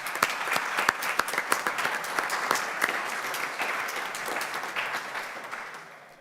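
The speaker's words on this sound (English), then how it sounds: "So maybe a round of applause for all those that couldn't make it but did contribute." Audience at a city council meeting applauds contributors. Scattered sharp individual claps open the stretch, then fill into a steady round of applause that gradually fades toward the end.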